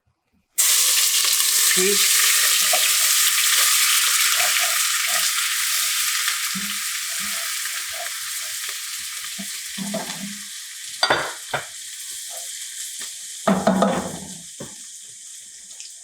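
Garlic sizzles loudly in very hot oil in a pan for Brazilian farofa and is stirred with a wooden spoon. The hiss starts suddenly and gradually settles, broken by scraping clatters and a brief spoken word.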